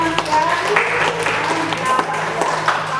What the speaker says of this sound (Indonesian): kita kasih aplaus untuk Rini